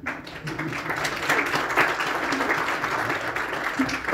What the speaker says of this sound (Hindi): अभी तो बड़े जोश से आपने ताली बजाई